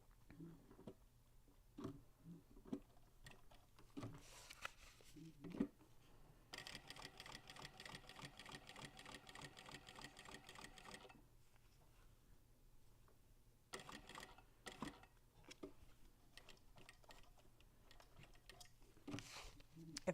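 A sewing machine stitches a bag tag in quiet, rapid mechanical bursts. A long steady run sits in the middle, shorter stop-start stitching comes before and after, and soft handling clicks fall between.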